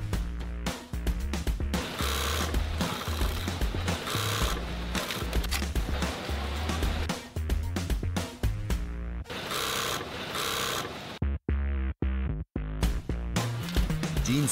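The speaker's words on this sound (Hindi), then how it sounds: "फ्लाई के बाद बन रही है कॉइन पॉकेट, जिसको शेप देकर कपड़े के पीस पर सिल देते हैं" An industrial sewing machine stitches a shaped coin pocket onto a denim jeans panel in a garment factory, its steady mechanical whirr running continuously and loud, with a few brief breaks near the end.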